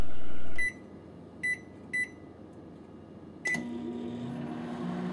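A microwave oven gives four short, sharp electronic beeps spaced a second or so apart, with a steady low hum running underneath and a louder burst of hum at the very start.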